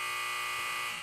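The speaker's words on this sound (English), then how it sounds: "So, with a buzzer." An electronic buzzer gives off a steady, bright tone that holds unbroken for about a second, loud and close, with no voices around it.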